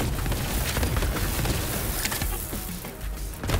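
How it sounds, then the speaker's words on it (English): Grenades explode in a Borderlands 3 co-op firefight, a dense, loud barrage of overlapping booms and crackling bursts that rumbles continuously throughout. "All you see is just loads of explosions from our grenades."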